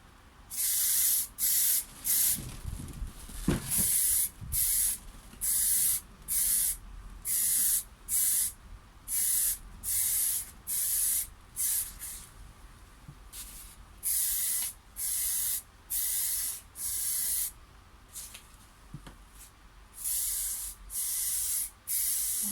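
Aerosol spray can painting a crashed Porsche 911 996 bumper in primer and paint, heard as about twenty short, loud hissing bursts in a steady rhythm with brief pauses between passes, close up and with no talking.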